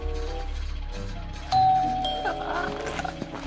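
A doorbell rings with a couple of chime tones over a noisy, busy background.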